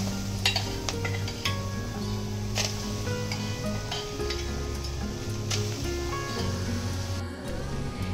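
Boiled chana dal hisses steadily as it is stirred in a hot kadhai while Puran Poli is made, with a few faint clinks of a utensil against the pan and no talking.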